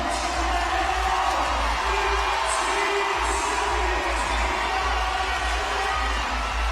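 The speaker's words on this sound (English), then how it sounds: "the crowd encouraging her to get to the top of that thing" A large arena crowd at the CrossFit Games cheers on an athlete climbing a piece of equipment, producing a steady, loud roar of shouts and whoops that keeps going without a break.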